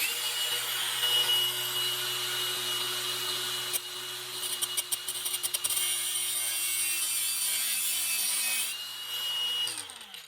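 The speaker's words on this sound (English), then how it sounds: "We used the Hercules grinder there, and we were able to use a cutoff wheel and just cut out a slit in there." A Hercules angle grinder with a cutoff wheel cuts a slit into a rounded, stripped Allen hex bolt. A steady high motor whine runs throughout, with a few seconds of rougher, scraping cutting bursts in the middle before it spins down.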